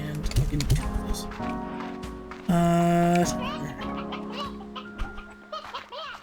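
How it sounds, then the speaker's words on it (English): Rooster and hens clucking in the farm game Slime Rancher 2, a busy stretch of bird calls with a loud sustained crow in the middle, set against game music. "Oh, right, there were still roosters in here."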